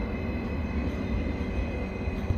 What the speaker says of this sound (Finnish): Siinä tulee juna.